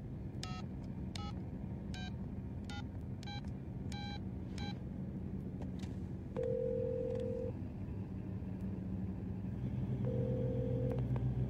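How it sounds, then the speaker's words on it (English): About seven quick telephone keypad DTMF beeps sound as a number is dialed over a low rumbling background, followed by a couple of longer steady tones. "Dial your number."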